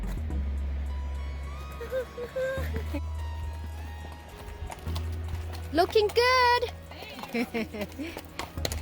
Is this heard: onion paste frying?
no